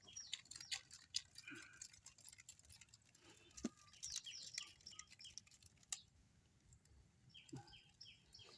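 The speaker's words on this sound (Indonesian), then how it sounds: "Suara burung kicau, cak cak cak cak." Faint, scattered bird chirps and tweets in the distance, irregular short calls over a quiet outdoor background.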